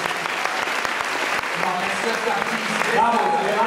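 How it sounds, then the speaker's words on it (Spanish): A church congregation claps loudly and continuously throughout, with voices and some tonal music blending in beneath the applause. "Vamos a darle un aplauso a Jesús."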